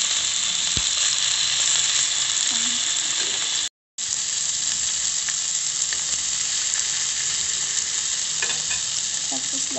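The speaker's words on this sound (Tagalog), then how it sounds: "Iprito natin yung salmon natin." Salmon frying in a hot pan for teriyaki salmon, a loud continuous close sizzle with a brief drop to silence partway through, no voices.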